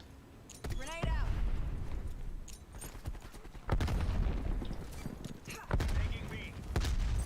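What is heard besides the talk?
grenade or Molotov explosion in a video game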